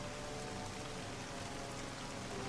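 Steady rain at night in the strategy video game Strategic Mind, a dense unbroken hiss that stays at the same level throughout, with no voices.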